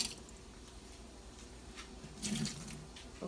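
Brownie batter mixed with a quarter cup of water gives off faint, wet squishing and stirring, with a slightly louder sloppy burst near the end, heard close and alone.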